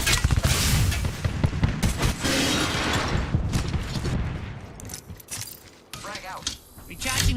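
Frag grenade going off in a shooter video game, a loud booming blast amid dense gunfire and rumbling, with a voice talking over the chaos.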